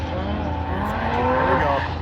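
A four-seat Can-Am UTV drives past at an off-road event, its engine a loud, sustained droning roar with shifting pitch as it goes by.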